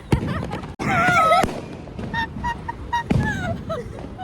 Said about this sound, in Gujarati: એવા ફટાકડા ફૂટે છે ને કે આમ બીક લાગી જાય છે